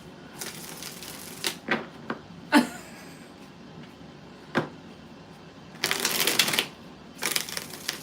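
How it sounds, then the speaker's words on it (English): Tarot cards are shuffled up close, with several crisp riffles and flicks, then a longer burst of rapid shuffling near the end, alone with no talk. "6 shuffles."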